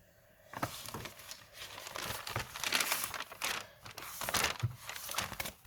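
Crinkly plastic rustling and crackling in bursts, close up, as a wrapper is pulled open and handled, with no talking.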